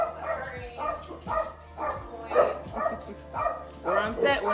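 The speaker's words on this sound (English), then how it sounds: "The mailman came and the dogs went crazy" Dogs bark excitedly at the mailman, a run of about seven loud, fairly close barks spaced at a steady pace over a low, constant background hum.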